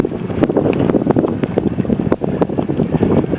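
Wind buffets a microphone aboard a sailboat out on the water in the morning, a steady rushing roar with gusty fluctuations, loud and close throughout.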